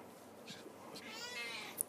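Faint, soft meows from a house cat indoors, a few brief rising calls in a quiet room with no talking.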